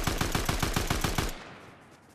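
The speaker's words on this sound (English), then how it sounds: "I'm gonna shoot it down." Rapid automatic gunfire from Fortnite, fired at an enemy player, a steady burst of about ten evenly spaced close shots that stops abruptly and trails off into a fading tail.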